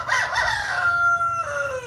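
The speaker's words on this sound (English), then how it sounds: "That rooster's not gonna let me speak." Rooster crowing loud and close, one long drawn-out cock-a-doodle-doo with a falling tail, heard alone.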